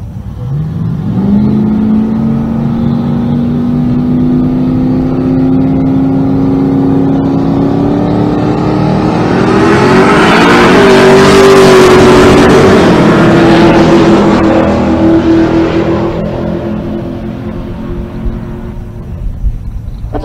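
A third-generation Chevrolet Camaro with a Pro Street build makes a drag racing pass, its engine roaring loud and steady, pitch climbing through a long pull, peaking near the middle before easing off toward the end, with no talk.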